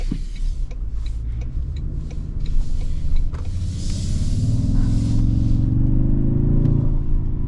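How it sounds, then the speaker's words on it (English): A lifted 2026 Toyota Tundra Platinum pickup pulls away, its engine rumble rising steadily as it accelerates from inside the cab, with a few faint clicks early on. "Well, let us set off in this lifted Tundra Platinum."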